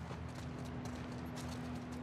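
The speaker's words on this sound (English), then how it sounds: "There's a horse here too." Horse hooves clop quietly in The Last of Us Part II, a soft, even stream of steps under a steady low hum, with no talking.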